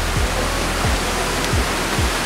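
River water rushes steadily in an Indonesian jungle setting in Sumatra, a loud continuous broadband roar with no one speaking, broken by a few low thumps spaced about half a second apart.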